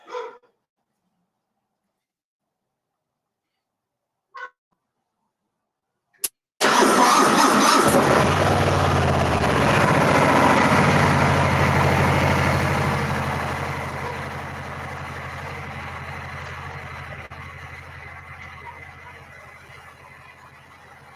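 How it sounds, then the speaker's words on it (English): A Harley-Davidson Fat Bob motorcycle engine cranks and catches after a few short clicks, then settles into a loud, steady idle in neutral that slowly fades somewhat over the following seconds. "Start the bike."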